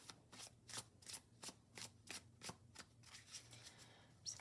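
A deck of tarot-style cards is shuffled close by in a quiet room, a run of soft, regular riffling bursts roughly every third of a second.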